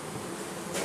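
Buckfast honeybees buzzing loudly in a dense, continuous drone close by, swelling slightly at the end.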